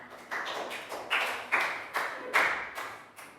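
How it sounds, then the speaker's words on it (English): A classroom of Year 3 pupils gives a round of applause for a classmate, bursts of claps arriving in about eight uneven rhythmic pulses, close and fairly loud. "Big round of applause for Lakgao."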